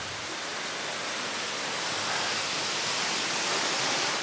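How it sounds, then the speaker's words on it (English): A waterfall in the Watkins Glen gorge in New York roars as a steady, dense wash of broadband noise, constant and fairly loud throughout with no other sounds on top. "Such a cool waterfall."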